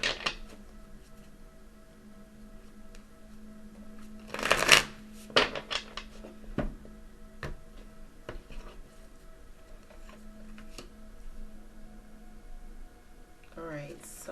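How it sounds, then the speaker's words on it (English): Tarot cards being shuffled by hand: scattered soft riffles and slaps, with a louder burst of card shuffling partway through, close and fairly quiet, with occasional faint voice sounds. "I'm just going to shuffle"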